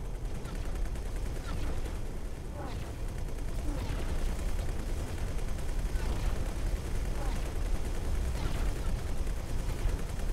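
Space station turrets firing in the video game X4: Foundations, heard as a continuous dense barrage of rumbling blasts and impacts with periodic louder bursts and no pause throughout.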